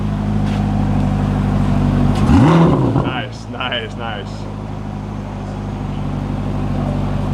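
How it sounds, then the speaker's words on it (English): A brand-new 2025 Corvette ZR1 engine idles with a steady low rumble, then blips into a couple of light, short revs that rise and fall around the middle, with a person speaking briefly over it. "Some light revs."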